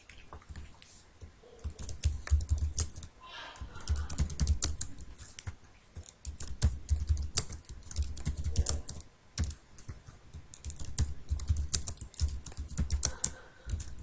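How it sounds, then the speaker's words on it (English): Rapid typing on a computer keyboard while entering answers into a form, a steady stream of close, crisp key clicks in bursts with brief pauses, no voices. "I'm going to type the answer, the expected answer, up here in the title"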